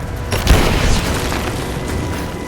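Heavy gunfire and booming impacts in Rise of the Tomb Raider, a sharp burst then rolling, rumbling blasts that keep up steadily at moderate loudness through the stretch.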